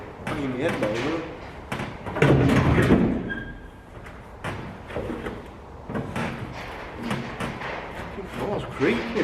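A jacked-up Nissan 200SX drift car shell creaks and thumps as someone climbs inside, with dull knocks and shifting clunks spread throughout, and people talk over it.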